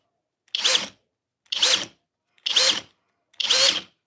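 Four short, evenly spaced bursts from a power drill biting into stainless steel, each about half a second long with a harsh whirring grind, close and loud against silence between them.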